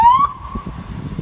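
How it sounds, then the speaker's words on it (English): Rochester, NY police car siren gives a short rising tone, then a brief wail that fades under low rumbling background noise. "The only thing we have are our sirens that are loud."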